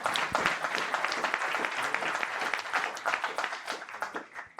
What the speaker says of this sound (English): give Jose another round of applause.